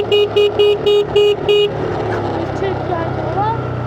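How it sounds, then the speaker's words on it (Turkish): Six short car horn honks in a quick, even series on a mountain plateau road, loud and close, over steady engine rumble; voices and faint chatter follow after the honking stops. "Şimdi korna çaldım"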